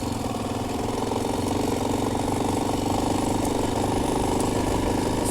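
A dirt motorcycle on a sandy trail ride runs with a steady, droning engine note, loud and close, holding a constant pitch without pauses and with no talking.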